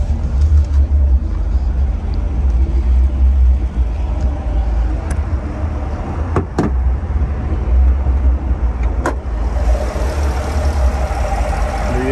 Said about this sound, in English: You have it, the big Camaro V8.